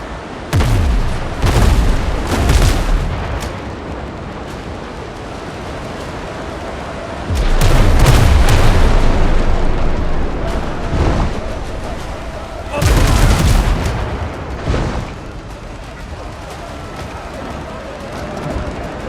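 A frigate's cannons fire in the pirate naval game Windrose, with repeated heavy booming volleys in clusters over a continuous rumble of battle noise, each burst loud and close.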